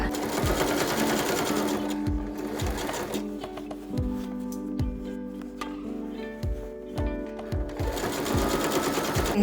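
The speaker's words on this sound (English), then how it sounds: "I just hem all of the edges of the bag" A sewing machine hems the edges of a bag made from scrap fabrics, running in loud, steady bursts of rapid stitching broken by short pauses and soft clunks as the fabric is repositioned, close up and without talk.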